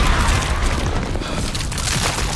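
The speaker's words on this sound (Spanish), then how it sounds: "se escucha una explosión" A loud, sustained explosive rumble with heavy low-end roar that holds steady for a couple of seconds, in a zombie drama.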